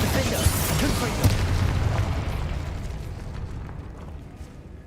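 A Confringo spell detonates in Hogwarts Legacy with a heavy, booming blast up front, then a rumbling tail that slowly fades over several seconds.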